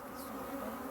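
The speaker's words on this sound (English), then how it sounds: "I had decided that I was going to leave these bees in this hive" African honey bees drone at a hive after winter, a brief, steady, moderately faint buzz with no voices.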